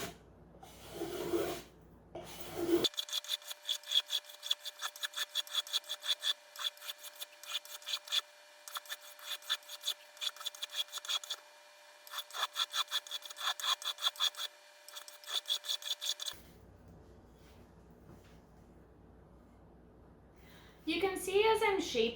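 A hand plane shaping a cedar flute blank from a pre-tuned flute kit, with rapid rhythmic rasping strokes in quick, close repeated bursts over a faint steady tone. Someone talks before and after the strokes.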